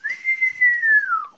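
A person whistles one long, steady sustained tone that sags slightly in pitch near the end, close and clear with no talking.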